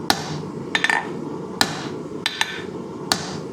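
A hammer strikes a hunter knife blank on an anvil during hand forging, giving about seven sharp, ringing blows at an irregular pace with quiet gaps between them.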